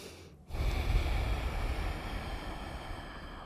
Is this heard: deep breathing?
yes